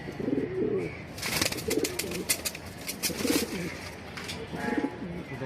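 Several racing pigeons coo in a loft, low throaty rolling calls coming in four or five separate bursts, close by, with some brief rustling and flapping noise between them.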